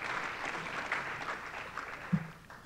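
An audience at a summit closing session applauds briefly, with a fairly faint patter of clapping that fades toward the end.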